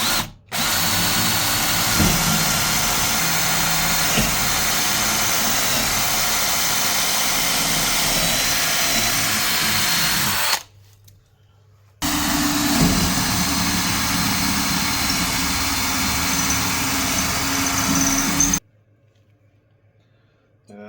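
A power drill with a 6mm bit bores a pilot hole for a fireplace mantel shelf, whining loudly and continuously, stopping briefly, then running again before cutting off.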